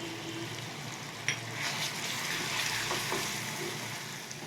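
Garam masala roasts in hot oil for a cauliflower and potato curry, giving off a continuous soft sizzle and crackle with a brief clink of a spoon stirring the pan; no one talks.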